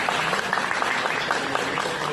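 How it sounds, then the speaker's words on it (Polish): An audience at a children's theatre show claps in a dense, steady burst of applause for about two seconds, with no clear voices over it. "Brawa,"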